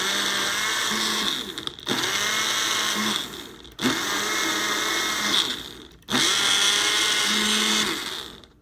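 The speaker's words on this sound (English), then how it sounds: "in any blender, just pulse it" A blender pulses ice for Dole Whip in four loud grinding bursts, each a couple of seconds long and split by brief pauses, with no one talking.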